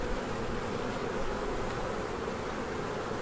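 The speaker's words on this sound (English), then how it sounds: "That is completely covered in bees." Honey bees swarm over a crowded hive frame in a ten-frame Italian colony at a spring inspection, giving off a continuous, even hum, near and moderately loud, with no talking.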